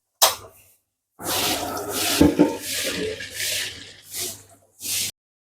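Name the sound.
washing and scrubbing a patched leaky pot under water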